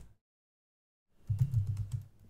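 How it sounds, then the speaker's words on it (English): A command is typed on a computer keyboard into a Linux virtual machine: after a silent pause, a short burst of soft, quick keystrokes sounds close by. "Let's type in ifconfig"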